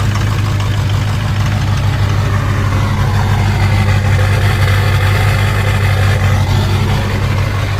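A cheap Ford Super Duty 6.0 diesel V8 idles cold on a chilly morning, a steady, loud, low rumble with a faint knocking clatter that runs on evenly for the whole stretch with no talk over it.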